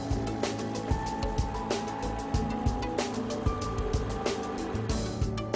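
A marine boat engine running after start-up, a loud steady throbbing drone with regular rhythmic pulses and mechanical knocking, heard close and continuous without speech.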